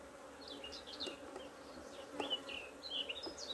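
Honey bees hum around an opened, recently split colony during a smoked hive check, a steady low buzz up close with a few bees darting by; birds chirp faintly in the background and no voices are heard.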